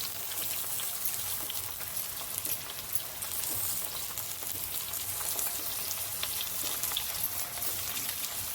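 Onion, ginger, garlic and tomato sizzle and crackle steadily in a hot pan, a dense, close frying hiss that runs without pause and with no voices.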